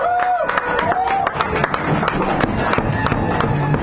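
A small café audience at a San Francisco poetry hour claps and whoops for poet Max Blue, brisk scattered applause close by, mixed with talking voices throughout.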